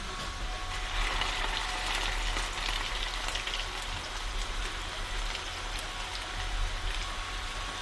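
Salmon patties sizzle and spit in a pan on a wood cookstove, a steady, close frying hiss with scattered crackles and pops.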